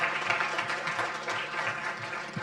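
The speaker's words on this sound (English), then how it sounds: "let's first of all put our hands together for the wonderful panelists we have over here" Audience at a sustainability and women empowerment forum applauds the panelists, a steady patter of moderate clapping filling the room.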